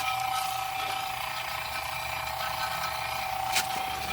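Vacuum pump evacuating a home AC system during an accumulator leak repair, a steady, constant mechanical drone with a fixed hum, running alone and unchanging throughout.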